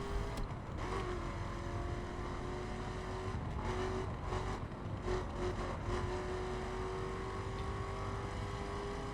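A car drives at night in The Crew on a Seattle to Miami road trip, its engine a steady, moderately loud hum with a slowly rising pitch, briefly broken by a few short shifts and bumps.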